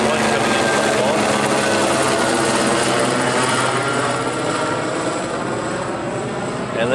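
An Airbus A321 airliner on approach to Honolulu airport gives a loud, steady roar of jet noise that fills the whole stretch, with only a slight swell and fade.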